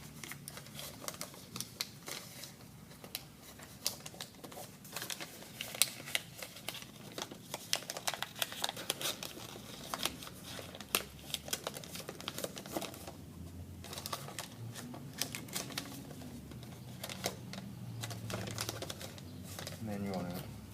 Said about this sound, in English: Got the tape ready. Now you just fold this in.